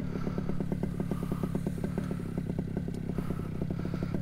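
Paramotor engine running steadily during a cobra launch into mild wind, a loud close buzzing drone with a fast, regular pulsing rattle throughout.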